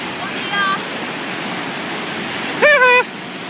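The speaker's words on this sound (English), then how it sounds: "I'm standing in a waterfall." Steady loud rushing water from a small waterfall by the beach, close up and continuous, with brief voice-like tones breaking in over it.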